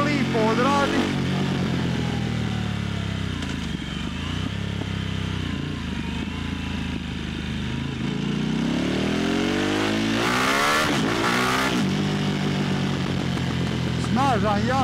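A 2022 Harley-Davidson Pan America motorcycle is ridden steadily, its engine a loud continuous drone that rises and falls with the throttle, with wind rush over the top.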